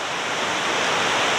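River Esk water flowing in the North York Moors, a dense, steady rushing wash with no breaks, fairly loud and close.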